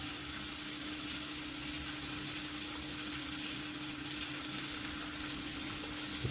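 Adavu fish coated in masala fries in a pan with a continuous close sizzle and crackle, steady and unbroken with no voices.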